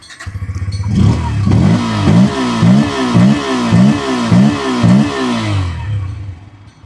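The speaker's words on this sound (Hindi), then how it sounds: "ये तो कुछ हो गया इस गाड़ी का एग्जॉस्ट साउंड।" A Bajaj Pulsar N160 motorcycle exhaust revs repeatedly close by, its engine note rising and falling in a steady series of throttle blips before settling back to idle.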